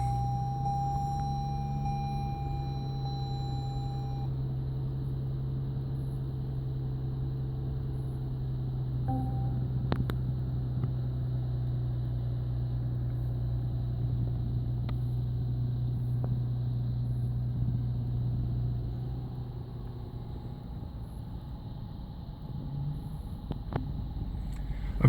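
A 2013 Lexus GS350 engine, started by push button, settles into a steady, smooth idle with a low hum running throughout, fairly quiet and unbroken, with no talking.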